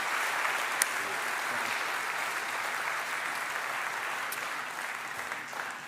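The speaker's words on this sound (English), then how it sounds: "Can we get one more round of applause, ladies and gentlemen, please?" Steady, sustained audience applause at the 2024 Andrew Gaze MVP and Awards Night fills the hall evenly from start to finish, with one brief sharp clap standing out near the beginning.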